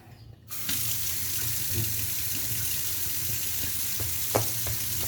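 Water pours and splashes into a bowl of bread dough made with milk and oil, a steady hissing wash near the microphone with a few small knocks.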